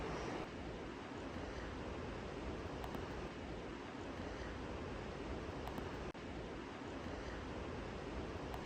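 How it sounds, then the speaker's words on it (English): A river runs below a woodland walking trail at Golitha Falls in Cornwall, a steady broadband rush of flowing water heard from a distance, continuous and unbroken throughout with no talking. "You may just be able to hear the river that's running further down there."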